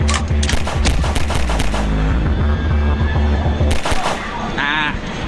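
Handgun shots in the House of the Dead arcade game, a rapid burst of sharp loud gunfire followed by scattered single shots among game effects, with a voice speaking over them.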